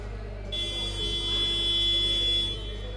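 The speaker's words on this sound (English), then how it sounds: "So the buzzers sounded." A buzzer sounds in the Copper Box arena during a National Basketball League Division 3 game, a steady electronic tone held for about two seconds over crowd and room noise, loud and close.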